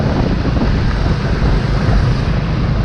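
Beach surf rolls in under strong gusting wind, a loud, continuous wash of waves and buffeting air with no voices, heard during a motorcycle ride.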